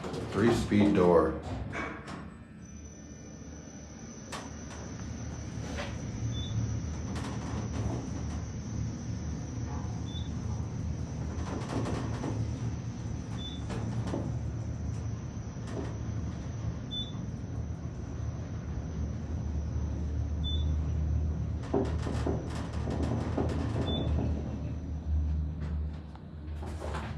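A Dover elevator car in a university building runs between floors with a steady low rumble and hum, broken by a few faint, evenly spaced high chimes, while people talk throughout.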